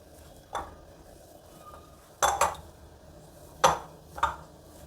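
Dough for paratha made with leftover dal is worked and mixed by hand in a bowl, giving a handful of separate knocks and clinks against the bowl with quiet pauses between them.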